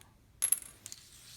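Coins from a medieval building board game drop onto the table in one quick metallic clatter, then two lighter clinks, close and fairly clear, with no talking.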